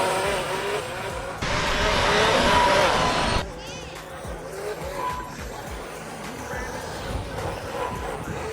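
A small RC car at an East Texas bash event whines loudly close by, surging into a harsh burst of engine and tire noise before dropping back, with people talking over a busy outdoor background.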